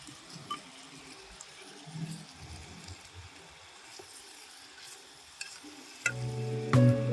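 Squid stir-fried with black pepper and scallions in a pan, a soft continuous sizzle with scattered stirring clatter, ending in a louder burst of scraping and a brief tonal ring near the end.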